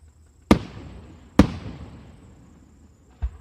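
Three fireworks explode one after another in the open: two sharp booms close together with crackling tails, then a fainter third burst, over a quiet background.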